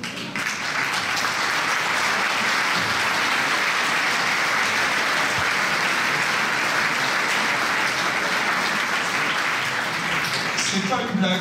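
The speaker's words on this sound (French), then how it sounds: "Je vais vous demander de faire un tonnerre d'applaudissements." Dense, sustained applause from a large crowd at a mayor's New Year address fills the whole stretch, loud and steady without a break.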